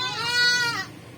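A baby goat on a rooftop goat farm gives a single close, wavering high bleat lasting most of a second, then quiet background follows.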